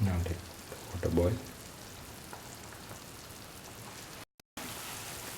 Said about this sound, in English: Now the water has started boiling.